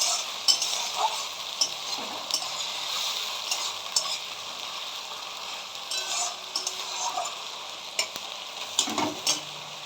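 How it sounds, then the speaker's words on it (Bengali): Onion sizzles steadily in hot oil with ginger-garlic paste for a fish-head moong dal (muri ghonto), the hiss dense and continuous, with frequent light scraping and ticking stirs close by and no talking. "পেঁয়াজটা ভাজা হয়ে গিয়েছে, আমি এখন আদা রসুনের পেস্টটা দিয়ে দেব"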